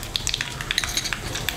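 Mustard seeds and cumin sizzle in hot oil as a tempering for ivy gourd (dondakaya) chutney: a steady frying hiss with scattered sharp crackles and pops from the seeds, close and fairly loud, with no talking.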